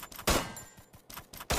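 Gunfire from an XM8 and M10 in a Garena Free Fire match, several sharp loud bursts of shots separated by brief quieter gaps.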